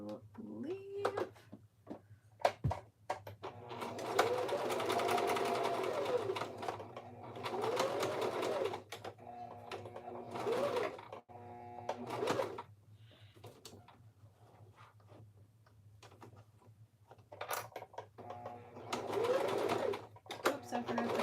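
A sewing machine stitches a fabric headband in several close whirring runs of a few seconds each, with pauses, clicks and handling noises between them, while a person talks intermittently over a faint steady hum.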